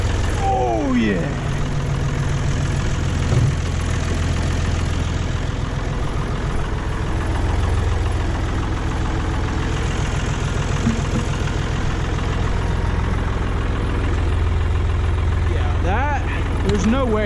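An antique Ford tractor engine chugs with a low, steady rumble throughout, loud and close, with occasional faint voices in the background.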